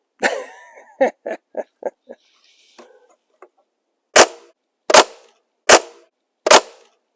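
A Nerf gun fires a series of sharp, punchy pops in quick succession, then after a pause four louder, evenly spaced shots ring out alone.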